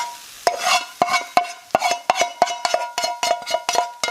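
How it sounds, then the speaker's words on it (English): A spatula scrapes egg fried rice off the bottom of a big pan, giving a run of about a dozen sharp, rhythmic scraping strokes over a light sizzle. "why am I scraping it like this?"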